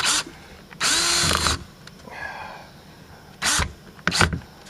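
A handheld power drill pre-drills holes into plywood in a small workshop, several short loud whirring bursts separated by quiet gaps, close by.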